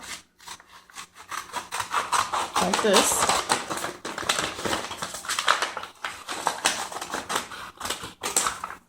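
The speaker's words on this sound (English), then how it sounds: "you're going to take a regular paper bag, you're going to cut up the middle" Scissors cut up through a plain paper bag in a run of crisp, crunching snips and paper rustle, close by, while a person talks over the cutting.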